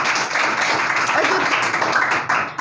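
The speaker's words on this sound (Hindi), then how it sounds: "एक बार जोरदार तालियां बजा दो" An audience at an event claps and applauds loudly and continuously for a few seconds, a dense close wash of hands with a voice talking over it.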